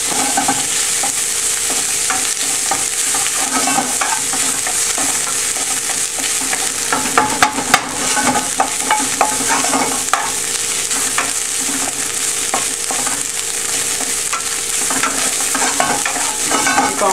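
Szechuan peppercorns and orange peel sizzle loudly and steadily in a hot pan, with frequent stirring scrapes and clicks running through the whole stretch.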